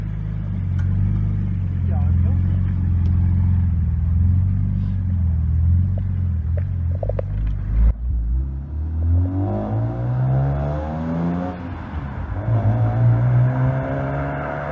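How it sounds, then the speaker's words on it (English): A 2016 Peugeot 208 that is being rebuilt after crash damage, driving: a loud, steady engine rumble that rises and falls as it accelerates, with a person speaking over it. "so I'm just going to take a little drive"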